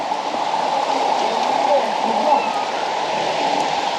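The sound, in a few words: waterfall in a deep canyon in Colombia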